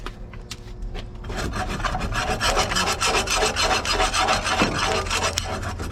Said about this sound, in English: take our scraper, scrape off as much of that crap as we can